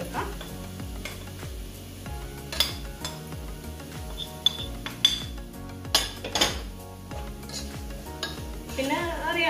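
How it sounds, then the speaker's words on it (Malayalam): Chilli, turmeric and fenugreek powders being stirred in a pan for green apple pickle: a light sizzle with scattered metallic clinks and scrapes of a spoon against the pan, set against soft background music. "ഒരു പച്ചമണം മാറുന്നിടം വരെ ജസ്റ്റ് ഒന്ന് ഇളക്കി കൊടുത്താൽ മതി"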